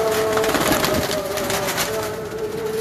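Pigeons of a prized high-flying breed at a Lahore loft give low, steady cooing throughout, with a faint constant tone running underneath and no clear talk.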